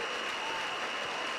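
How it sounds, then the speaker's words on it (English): Applause for the Honorable Mark Brantley at a St. Kitts and Nevis campaign launch, a dense, steady wash of clapping from a crowd that holds at an even level for its short length. "round of applause"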